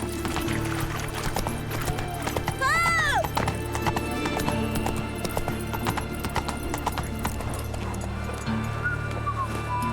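Horse hooves clip-clop steadily at a gallop through the Witcher 3 game world, with a loud neigh rising briefly near the middle, all over constant background music and ambience, with speech faintly present.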